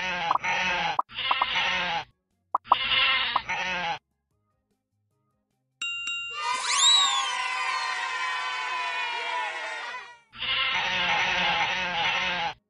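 Loud, clear sheep bleats sound in separate bursts, then a bright sliding chime-like tone, then another long bleat.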